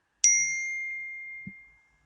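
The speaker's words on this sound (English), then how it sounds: "I heard this ping." A phone notification ping, a single bright electronic ding that rings out and slowly decays, followed by a small soft knock, heard alone in a quiet room.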